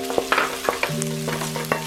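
Minced ginger and garlic fry in hot oil in a pan, giving a steady close sizzle broken by quick scraping stirs, with a low hum running underneath.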